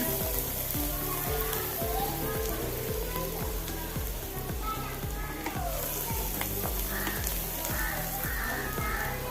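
Chopped onions sizzle steadily in a pan as they are stirred into garlic for a vegetable macaroni masala pasta, a continuous close frying hiss with rhythmic low scraping strokes throughout.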